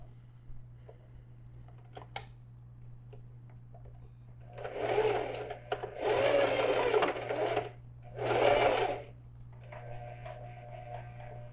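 Sewing machine stitching a seam with a 1 cm allowance on a fabric pouch, three close bursts of rapid whirring stitches separated by short pauses, over a steady low hum.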